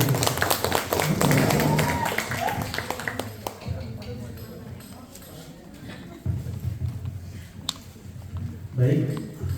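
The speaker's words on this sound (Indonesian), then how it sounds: "Beri tepuk tangan dulu" Applause from a seated audience at a community question-and-answer event in Bogor: a dense burst of clapping for the first few seconds, then fading beneath a speaker's voice and room chatter.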